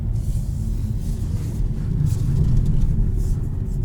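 A Kia Seltos all-wheel drive SUV driving slowly through a tight turning circle, heard from inside as a steady low engine and road rumble that swells slightly midway.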